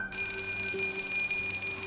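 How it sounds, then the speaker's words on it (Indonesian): A bright, sustained high ringing tone of a small bell shimmering steadily and fairly loud at a sacred site in Kuningan, with no voices. "beberapa kali lonceng bergetar mengeluarkan suara nyaring"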